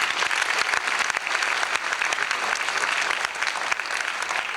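An audience at an evening choir, FFA and prom event breaks into loud, dense applause, many hands clapping close and steady without a break from start to finish.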